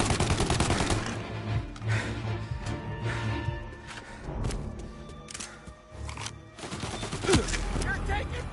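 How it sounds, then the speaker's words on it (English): Gunfire in the Mafia video game during a hangar shootout, with repeated shots and bursts layered over music and sound effects, with voices talking in the background. "You're taking fire!"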